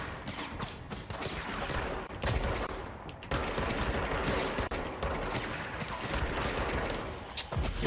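Sustained gunfire from the player's weapon in the video game Control, dense bursts of shots running nearly without pause across the whole stretch, loud and close, with a sharp crack near the end.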